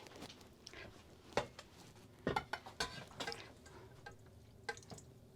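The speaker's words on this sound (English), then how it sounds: "So I'm going to squeeze the water out now." Rinsed soya chunks squeezed by hand to press out water, giving faint wet squelches, drips and a few small clinks of a bowl, scattered irregular bursts at close range.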